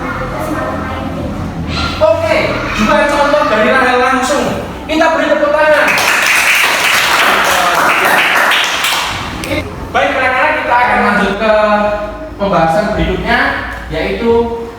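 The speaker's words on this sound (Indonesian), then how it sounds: "Kita beri tepuk tangan." A class applauds: a short, loud flurry of hand clapping in a classroom that rises between stretches of a teacher's voice and stops as speech resumes.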